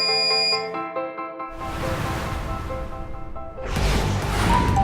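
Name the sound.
DAIHAN oven timer alarm sounding when set time ends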